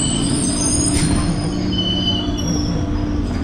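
A local train runs at Ichhapur railway station with loud, close wheel squeal and a continuous low rumble throughout.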